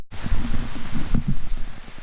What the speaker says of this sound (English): The rain's coming in pretty good